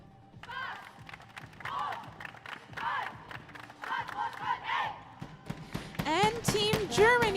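Team Germany's players shout their team cheer at a tchoukball Nations Cup match in an arena, a burst of loud voices rising over crowd murmur and a commentator's talk, peaking in the last two seconds.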